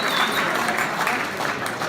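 Members of a 50th reunion crowd applaud and cheer the committee, a dense, steady wash of clapping that holds loud from start to finish with no break.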